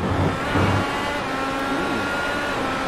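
IndyCar race car engines roaring in the iRacing sim during a road course Grand Prix at Road America, a loud continuous high-pitched drone filling the whole moment with no talk.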